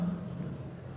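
Pen or chalk writing numbers on a board during a maths lesson, a soft continuous scratching that runs steadily for about a second at moderate level with no speech over it.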